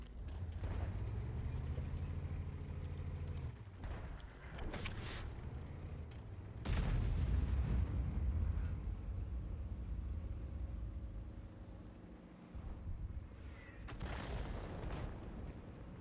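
Heavy artillery booms and rumbling blasts from a World of Tanks battle, repeated at intervals over a continuous low drone of tank engine noise.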